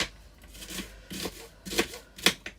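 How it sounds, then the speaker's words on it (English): Knife chopping an onion on a cutting board: about five soft, close cuts land at a slow, uneven pace, each with a brief crisp crunch. "So I'm cutting up an onion."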